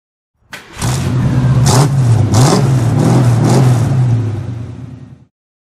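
A car engine with new mufflers starts up and revs, holding a loud, close, steady idle with a few swells of throttle before cutting off abruptly.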